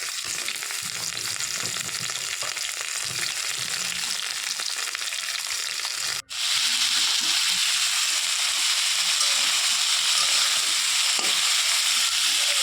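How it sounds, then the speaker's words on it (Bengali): Potatoes and vegetable stalks fry in a pan for a Bengali potato-and-stalk poppy-seed dish, giving a loud, steady, close sizzle throughout, broken only by one brief dip midway. "আলু ভাজা হয়ে যাওয়ার পর ডাটাগুলো দিয়ে দিলাম ডাটা বেশি ভাজবো না"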